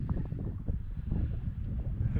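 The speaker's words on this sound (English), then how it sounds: "all that climbing to get up here, but it's pretty windy and cold." Strong wind sweeps across an exposed mountain summit on the Grafton Loop in June, a steady, loud roar that buffets the microphone without letup for the whole stretch.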